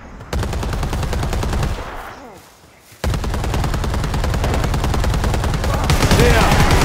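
Sustained automatic gunfire in a video game: rapid rattling bursts fill most of the clip, broken by a brief lull near the middle, then resume loud and close and continue to the end.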